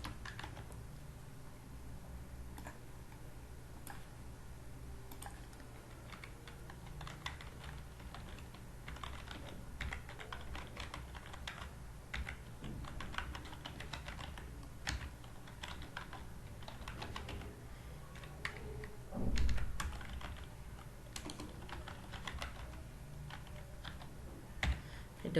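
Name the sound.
typing on a computer keyboard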